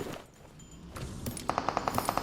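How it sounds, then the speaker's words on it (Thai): Gunfire ahead in a town in PUBG Mobile: after quiet ambient game sounds, a rapid burst of about nine evenly spaced shots rings out at moderate distance. "นี่ไง เสียงปืนด้านหน้านครับ ในเมืองนะ"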